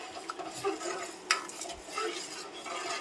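Thick milk curdled with vinegar being stirred in a pot for Chittaranjan sweet, giving a soft continuous scraping and sloshing with light clinks of the spoon, close and fairly quiet, with no talking.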